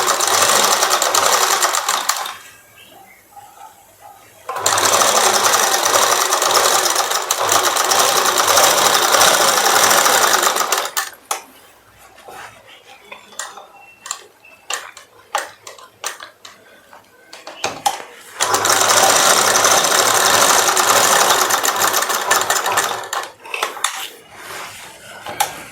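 A sewing machine runs in long loud continuous bursts while stitching a saree boat neck blouse, with pauses filled by clicks and light handling of fabric between the runs.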